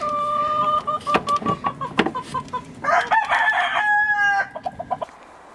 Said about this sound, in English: Now, we get to go get the chicks.